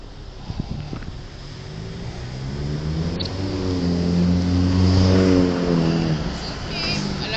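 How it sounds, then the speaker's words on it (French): A car drives past on a street beside an outdoor vigil, its engine hum swelling as it nears and peaks mid-way, then easing off, heard over light wind noise. "Attention la voiture."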